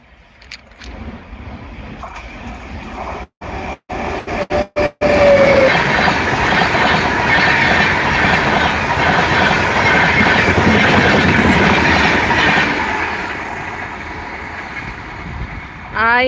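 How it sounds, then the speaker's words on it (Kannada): A train rumbles past steadily for several seconds, a broad continuous roar that swells and then fades, with a few sharp clicks at the start. "ಬೇರೆ ಯಾವುದೋ ಬೇರೆ ಟ್ರೈನ್ ಆಗುತ್ತೆ ಬಂತು ಟ್ರೈನ್"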